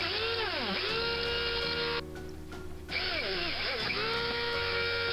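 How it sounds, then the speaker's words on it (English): Small drill boring out the posts of a Corgi Mercedes 300 SL die-cast model with a 1.7 mm bit, a whining motor that speeds up and slows down, cutting out briefly in the middle before spinning up again, close and steady. "drilling out the posts"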